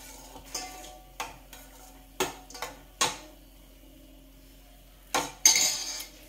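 A spoon clinks and taps against a vessel while stirring a ragi drink, a handful of sharp separate knocks spaced unevenly, near and distinct over a quiet background.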